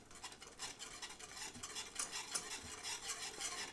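A spoon stirs spices through kadhi in a pot over a low flame, with steady scraping and swishing plus a faint sizzle. It sounds close and continuous, with no voices.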